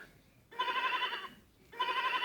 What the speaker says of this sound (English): The white sheep.